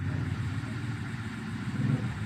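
Steady low rumble of a Mitsubishi car engine idling just after being restarted with its check engine light still on, an even, close drone with no talking.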